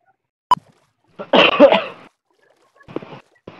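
A single sharp cough from someone close by, followed by a brief muffled voice and a couple of faint bumps.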